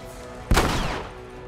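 A single loud shotgun blast in The Last of Us, a sharp sudden report whose tail decays over about half a second above a low, steady background hum.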